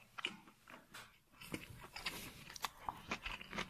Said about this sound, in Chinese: 非常脆的冬笋